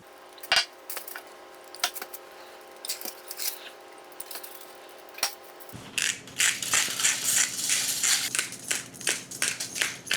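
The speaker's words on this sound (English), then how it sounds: "I'm going to pour olive oil on each of these beets and sprinkle with salt" Olive oil poured and salt sprinkled over beets in a foil-lined pan: a few soft, sparse drips and taps at first, then a denser run of close, crackly patters.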